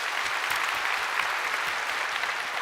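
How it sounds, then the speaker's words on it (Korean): A church congregation at a Sunday service claps to bless newly baptized members, dense even applause from many people filling the whole short stretch. "우리 인사하실 때 박수로 축복해 주시기 바랍니다."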